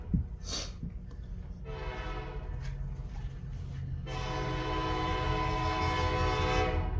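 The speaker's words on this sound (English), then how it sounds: "don't mind the train coming through." A passing train sounds its horn in two long, loud blasts, the second held to the end, over a steady low rumble of rolling cars that grows slightly louder.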